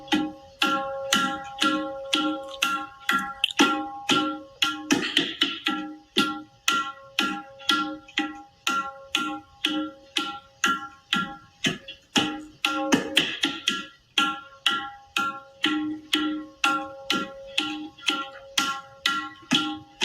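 A tabla plays the Dintal rhythm, a steady repeating cycle of resonant drum strokes at a moderate, even pace, close and clear, with no voices.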